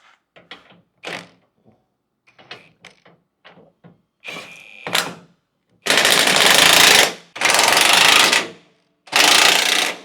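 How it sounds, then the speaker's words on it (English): An impact tool tightens skid plate bolts on a second-generation Toyota Sequoia or Tundra, with short clicking bursts followed by three loud sustained rattling hammering runs, close up. "now that all of our bolts are in and everything's aligned, we'll just run around and get everything tight."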